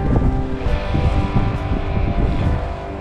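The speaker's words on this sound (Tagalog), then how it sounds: "lakas ang hangin na" Strong winter storm wind in Canada, a loud, continuous rumbling roar buffeting the microphone with gusty surges and no voices.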